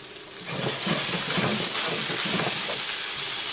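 Sausages fry in a pan with a loud, steady sizzle and hiss, joined by faint bubbling and crackling spits, with no talking.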